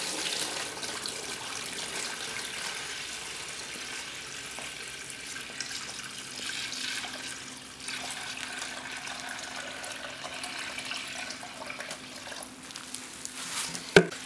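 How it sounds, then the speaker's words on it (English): Nine liters of water pour steadily onto a natural grass lawn with a continuous soft splashing hiss that holds at an even level throughout and ends in a brief sharp knock. "We're gonna pour the exact same amount of water, 9 liters and 3, and we'll see what we come up with."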